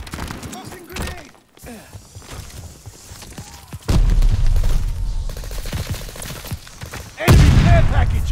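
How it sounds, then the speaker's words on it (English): Grenade blasts in the shooter Vanguard, with heavy low booms at about four seconds and again near seven seconds amid scattered gunfire and game noise, loud and close. "Tossing grenade."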